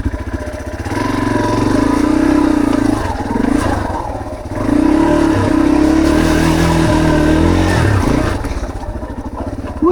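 A Husqvarna dirt bike revs hard on a flooded, rocky trail at Walker Valley, engine rising and falling in loud, close bursts with a dip midway before pulling strongly again.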